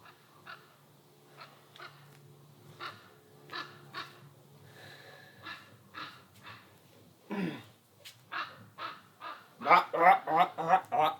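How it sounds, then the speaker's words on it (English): Crows cawing outdoors in a backyard setting, a series of short harsh calls spaced through the stretch, then a louder, denser burst of caws near the end, with a voice briefly heard in between. "Crows."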